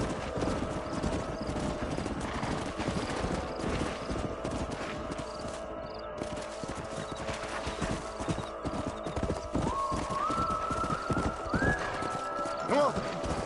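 Horses gallop with steady clip-clop hoofbeats and whinny in Red Dead Redemption, the hooves dense and close throughout while rising neighs break through near the end, with voices speaking over the ride.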